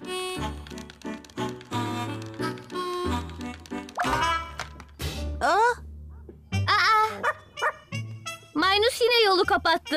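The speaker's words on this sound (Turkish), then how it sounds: "Ona havlamayı seviyor." A cartoon dog in the children's show Poko barks and yips in short bursts, mixed with animated voices talking over a busy, bouncy soundtrack.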